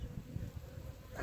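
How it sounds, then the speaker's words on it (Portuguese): A low, continuous buzzing of wild bees close by at their nest, steady and fairly quiet. "Só chegando as abelhas"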